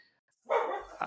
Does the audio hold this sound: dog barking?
yes